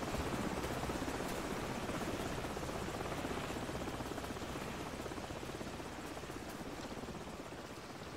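Helicopter in Call of Duty 4: Modern Warfare, a spotlight-carrying gunship hovering nearby, its steady rotor thrum and engine whine filling the whole stretch at a constant level, slowly fading a touch toward the end.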